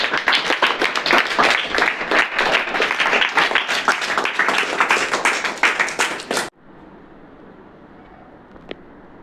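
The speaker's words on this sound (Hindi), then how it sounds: "ये जोरदार ताली है।" A classroom group applauds students for a school project, with brisk, loud clapping from many hands for several seconds before it cuts off abruptly into quiet room tone, broken by one faint tap.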